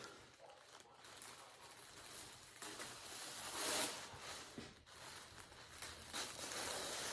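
Thin inflatable plastic membrane being cut down its sides, giving a close, continuous crinkling rustle that swells and eases in irregular bursts for several seconds.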